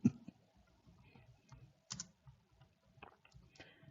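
Clicky keystrokes on a computer keyboard come in uneven bursts, some sharp taps standing out, close and fairly quiet in a still room with no talking.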